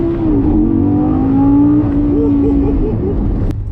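Wrecked Golf R pulling hard from a standstill in a 0 to 60 run, a loud steady engine note rising in pitch for about three seconds before easing off, with a faint voice over it.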